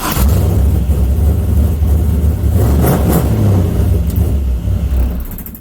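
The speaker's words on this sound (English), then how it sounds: "Car starts again." An LS V8 swapped into a Mazda Miata starts up and runs close by, a loud steady low engine rumble with a couple of brief rises in revs throughout.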